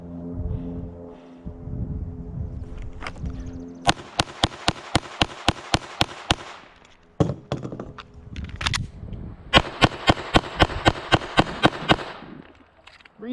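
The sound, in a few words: pistol shots fired at a target at a shooting range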